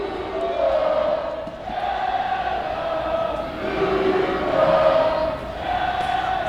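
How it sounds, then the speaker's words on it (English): Home fans at a Chattanooga FC football match against Memphis City FC keep up a sustained roar of chanting and urging in the stadium, swelling and easing in waves, distant but loud, with no commentary over it. "The crowd are willing them on, willing that ball at the back of the net for Chattanooga"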